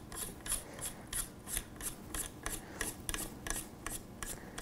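Barrel nut spun by hand onto the barrel of a Sig Cross Sawtooth Magnum rifle during a barrel swap, giving a steady series of about a dozen rhythmic metallic rasping strokes, close and moderately quiet, with no talking.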